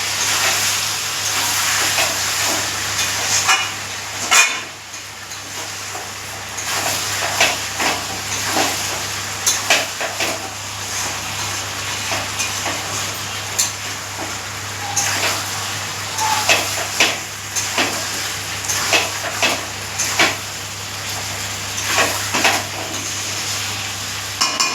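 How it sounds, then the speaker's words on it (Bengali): Chicken sautéing in a wok with fried potatoes and whole garam masala, a continuous soft sizzle broken by repeated scraping stirs and occasional clinks of the utensil against the pan. "এখন কড়াতে গরম মশলা ফোড়ন দিয়ে আলু ভেজে নিয়ে এখন চিকেনটাও ছেড়ে দিয়েছি।"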